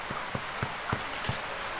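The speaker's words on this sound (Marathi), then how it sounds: "बाहेर भरपूर पाऊस पडतोय, रात्रभर पाऊस चालू आहे" Steady overnight rain falls outside, a soft continuous hiss broken by a few faint, evenly spaced drips or taps, heard from indoors.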